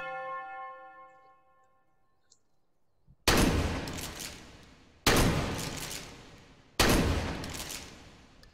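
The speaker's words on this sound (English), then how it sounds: "we can obviously shoot barrels and boxes and these targets" Three loud, sharp gunshots ring out at targets in the VR shooting game H3VR (Hotdogs, Horse shoes & Hand Grenades), spaced a couple of seconds apart, each with a decaying tail, after a fading tonal chime.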